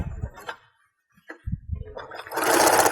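A sewing machine stitches Christmas stocking fabric in short, uneven bursts of mechanical whirring separated by pauses, finishing with a longer, louder run.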